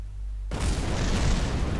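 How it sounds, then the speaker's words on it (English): A crashing interplanetary stage explodes in Kerbal Space Program during an Eve landing, a sudden loud broadband blast that starts abruptly and rumbles on steadily, close and dominant. "The explosion we just heard, and we are not able to see, was our interplanetary stage."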